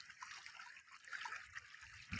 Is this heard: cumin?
no